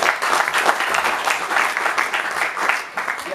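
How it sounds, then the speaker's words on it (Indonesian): Audience applause at a monodrama theatre performance, a dense, steady wash of many hands clapping throughout, fairly loud and continuous. "Tepuk tangan kawan-kawan untuk"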